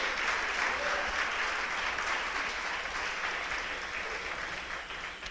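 A church congregation applauds in a steady, moderately distant wash of clapping that tapers off slightly toward the end.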